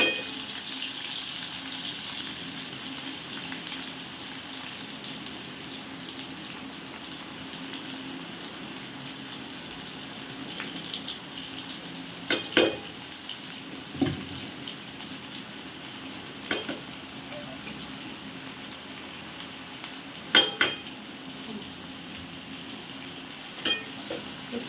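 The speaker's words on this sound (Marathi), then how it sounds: "आपण आता कांदा ब्राऊन होईपर्यंत भाजून घेणार आहोत." Finely chopped onion with bay leaves and cumin sizzles steadily in hot oil for chole, a soft continuous frying hiss close by, broken by a few sharp scraping stirs of a spoon against the pan.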